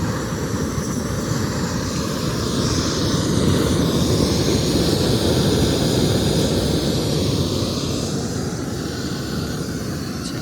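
A backpacking camp stove burning jet fuel roars steadily and loudly at close range while dinner cooks at a cold, windy Pacific Crest Trail campsite, with a continuous broadband rushing and no talking.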